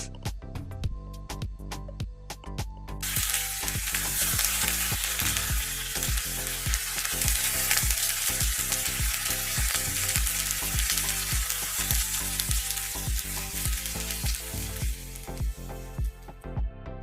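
Coriander, curry and mint leaves sizzle loudly as they hit hot oil in a pan for South Indian ginger chutney, a burst of steady crackling frying with rhythmic stirring knocks throughout, close and without talk.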